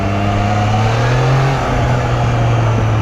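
A Triumph 660 motorcycle engine revs loudly and close, a sustained droning roar whose pitch climbs, briefly dips and settles again across a few seconds, without any talk.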